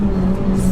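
Honda Integra Type R DC5 engine revving high into VTEC, a steady, loud, close mechanical roar with a strong sustained tone throughout this brief moment.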